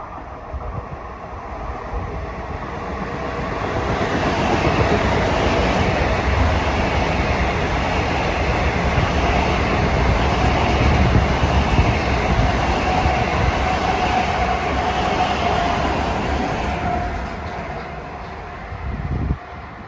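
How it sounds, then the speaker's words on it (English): A Long Island Rail Road train on track 2, running from New York to Huntington on a third-rail line, rolls steadily past, its broad rumble swelling and holding for many seconds before easing off, loud and close. "Here comes train 1716 from New York to Huntington on track 2 at 4:21."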